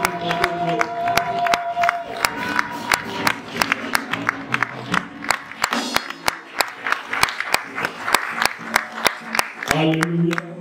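A church congregation cheers and applauds loudly, with sharp rhythmic clapping beating through crowd voices and shouts for the whole stretch.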